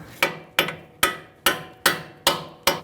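Hammer tapping a bolt out of a front strut assembly on a 2000-2007 Ford Taurus, seven sharp metallic blows at an even steady pace, close and loud, each ringing briefly before the next.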